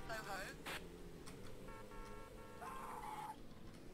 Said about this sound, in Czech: Co to tady je za slepice?